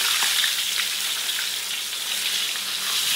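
Chicken pieces frying in oil in a pan, a steady close sizzle and crackle running unbroken throughout, with no voices.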